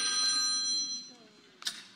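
A phone rings with an incoming call during a church talk, a bright electronic ring tone sounding continuously for about a second before fading, with a short sharp burst near the end under a soft background murmur.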